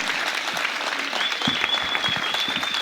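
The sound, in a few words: crowd applauding a speaker at a political rally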